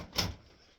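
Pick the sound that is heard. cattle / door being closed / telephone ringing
door being closed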